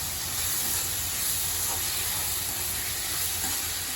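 Chopped tomatoes sauté in a pan while making a homemade ayira fish curry, giving a steady, close sizzle and hiss with faint stirring throughout and no talking.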